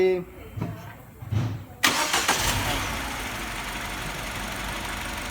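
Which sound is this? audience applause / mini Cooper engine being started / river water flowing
mini Cooper engine being started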